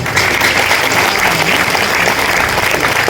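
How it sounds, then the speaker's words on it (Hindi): An audience at a public speech breaks into steady, dense clapping that fills the whole stretch, loud and close with no pauses and no voices over it. "आयोजकों को ताली बजाने में कंजूसी नहीं करना"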